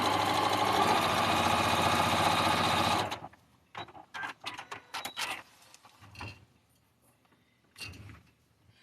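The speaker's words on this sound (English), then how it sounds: "Sewing right along this seam line again." A sewing machine runs a fast, steady stitch along a seam line for about three seconds, loud and close, then stops, leaving scattered handling clicks and fabric rustles.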